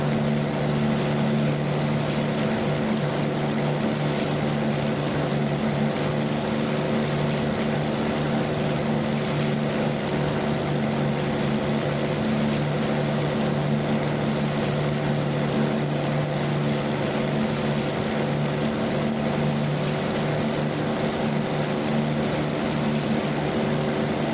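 The propeller engine of a Supermarine Spitfire Mk I in Microsoft Flight Simulator drones loudly and continuously, a dense steady roar with a strong low throb that holds level throughout.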